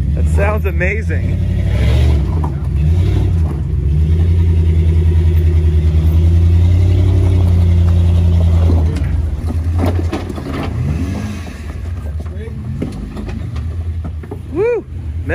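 Jeep engine on an off-road trail, a deep steady drone that swells and revs under load for several seconds before easing off, with people talking and cheering over it.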